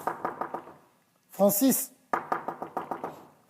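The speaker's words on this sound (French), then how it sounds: "Je cogne à la porte." Someone knocks on a stuck bedroom door in quick rhythmic bursts of sharp, close raps, with a brief spoken outburst between the two series of knocks.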